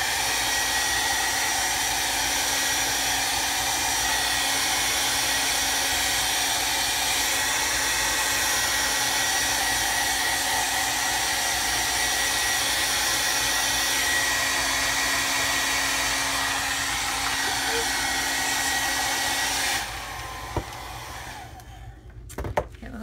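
A hair dryer blows steadily on a soaked sheet of notebook paper, a loud close whir held for about twenty seconds before it cuts off, leaving a few faint handling clicks.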